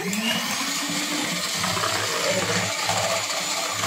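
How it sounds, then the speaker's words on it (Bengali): Continuous whirring drone of an electric beater whipping egg whites in a bowl, steady and close for the whole stretch with no pauses or talk. "ডিমটাকে সাদা অংশটাকে বিট করে নিব। আমরা এখন এক বিটার দিয়ে"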